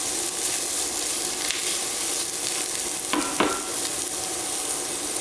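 Carrots cooking in a pan for chicken and dumplings, stirred steadily: a continuous close broadband sizzle with scraping stir strokes and a couple of sharper clatters partway through, no voices.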